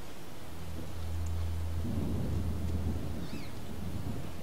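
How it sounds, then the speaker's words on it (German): Rain falling in a video game, a steady hiss of rainfall with a low rumbling drone beneath, constant and moderately quiet. "Der Regen ist doch einfach mies."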